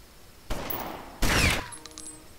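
Two sharp gunshots in the game Omerta: City of Gangsters ring out about a second apart, each followed by a brief echoing tail, then a faint clatter.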